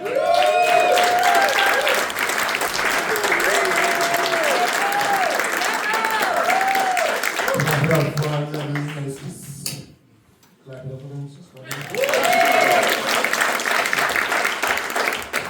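Comedy club audience clapping and cheering for a comedian, dense sustained applause near the microphone with a brief lull midway before the clapping swells again.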